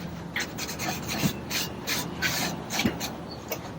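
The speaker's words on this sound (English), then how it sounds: "pressing harder with the brush, and again wiping it, blending in any excess" Brush strokes and cloth wiping of finish on a Remington Shur Shot wooden box, close and fairly quiet: repeated soft rubbing and rasping passes in an irregular rhythm, with a couple of light taps, and no talking.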